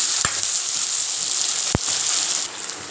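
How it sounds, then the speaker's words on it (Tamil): Steady, close sizzling of onions frying in hot oil, a constant hiss with a couple of sharp clicks from stirring, no voices. "வெங்காயம் இந்த அளவுக்கு வதங்கினா போதுங்க"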